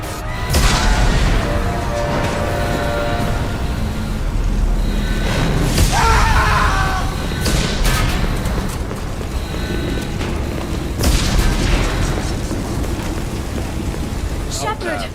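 Explosions and hull breaches rock a ship in the video game Mass Effect 2: continuous heavy rumbling with several booming impacts, under shouted dialogue and alarms.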